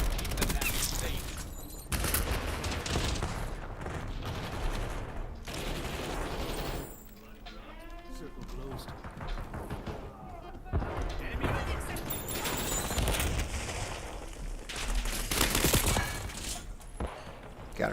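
Bursts of rapid automatic gunfire and sharp single shots fill a Black Ops 7 firefight, loud and close, broken by short pauses, with footsteps and mechanical clicks between volleys and a voice talking over parts of it.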